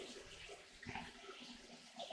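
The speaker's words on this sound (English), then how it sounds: "the water's missing the bucket on this upper edge here by a little bit, but it's going into the tub" Water from a DIY recirculating gold high banker pours steadily into a tub, a faint continuous splashing flow heard close up with no talking.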